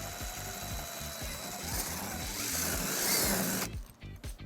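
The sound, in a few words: drilling hole in bumper with 3/16 drill bit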